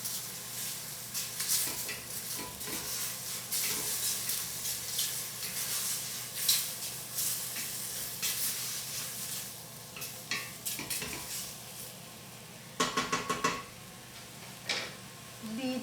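Champignon mushrooms fry in hot oil in a pan, with a steady crackling sizzle and some stirring clatter running throughout, plus a few louder sharp bursts near the end.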